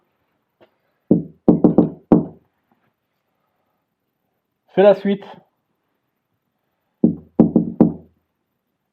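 During a paranormal investigation in a family home, someone knocks on walls and devices in two quick groups of resonant raps, with a brief spoken phrase between them.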